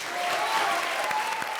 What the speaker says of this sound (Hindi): तो ताली बजाओ फिर।